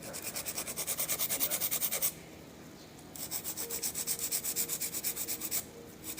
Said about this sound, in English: So I'm going in with this 80/80 grit file.